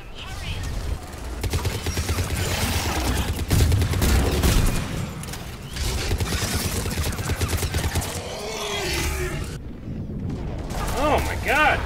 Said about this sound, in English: That thing's shooting at me.